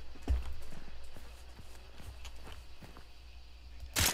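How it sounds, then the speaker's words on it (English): Horse hooves clopping in Hunt: Showdown, heard muffled through a wall: faint, irregular thuds spread across the stretch, with a sharper knock near the end. "I heard a horse through wall."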